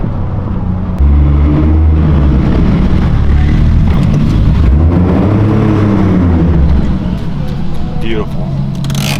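A 2JZ-swapped Nissan 240SX engine revs and pulls hard during a ride, its rising and falling drone loud and close, with a passenger's brief exclaimed word over it.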